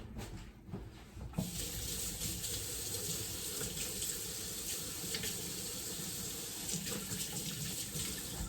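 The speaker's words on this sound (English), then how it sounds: "I'm just going to wash my hands and prep these" Tap water runs steadily into a kitchen sink as hands are washed before preparing supper, a continuous close splashing rush with faint shifts as the hands move under the stream.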